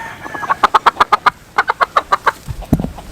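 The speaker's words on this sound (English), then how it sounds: "we have 2 white leghorn chickens running around" White leghorn chickens give a quick series of about a dozen sharp, evenly spaced clucks in two bursts, close and clear, ending with a low thump.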